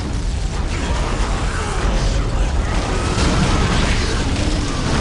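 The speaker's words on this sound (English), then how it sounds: "On my command, fire the Titan cannon." Titan cannon fired in the Warhammer 40k Dawn of War Dark Crusade game: a dense, sustained roaring blast with rumbling low booms and mechanical grinding, loud and continuous throughout.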